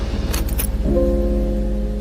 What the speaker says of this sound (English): Keys jingling